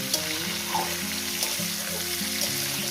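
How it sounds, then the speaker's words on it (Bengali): Vegetables frying in a pan give a steady, close hiss of sizzling oil, with a low, sustained tonal hum running beneath it. "পরপর সবজি দিয়ে আমি সবজিটাকে সুন্দর করে আমি ভেজে নিচ্ছি"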